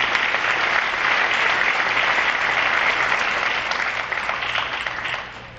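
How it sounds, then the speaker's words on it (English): Sustained applause from an audience at a high school National Honor Society ceremony, a dense steady wash of clapping that holds loud and even before tapering off at the very end. "Ms. Roberts, a very round of applause for you."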